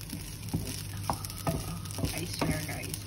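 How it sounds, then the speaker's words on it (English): Garlic frying in oil for fried rice, sizzling steadily up close while a utensil stirs and scrapes the pan in quick strokes about every half second. "I will be making a fried rice along with the garlic"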